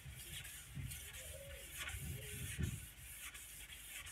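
Steady wet rubbing and scraping of wet sanding on car paint, rhythmic strokes close up, with a few soft thumps and no talking.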